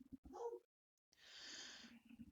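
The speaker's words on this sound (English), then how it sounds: "my apologies for the background barking" A dog barking in the background of a home setting, two short muffled bursts separated by a pause, the second one longer and hoarser, faint and distant.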